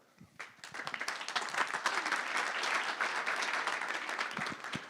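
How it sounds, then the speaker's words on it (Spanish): Audience applause at a technical workshop on connecting projects to the interconnected power grid, dense hand clapping from a room of people that builds quickly and stays steady for several seconds. "Le damos un aplauso."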